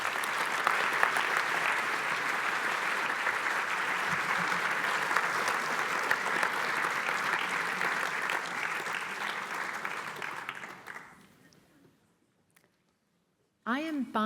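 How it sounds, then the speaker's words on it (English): Sustained audience applause at an evening lecture honoring a conservationist, dense and steady for about ten seconds before fading into silence, then a voice begins speaking at the end. "Big applause."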